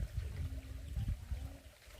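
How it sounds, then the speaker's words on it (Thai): Water trickling and gurgling beneath rocks, a faint close burbling with uneven little pulses and splashes. "แบบน้ำไหลลอดพื้นไปเลยนะหินแถวนี้"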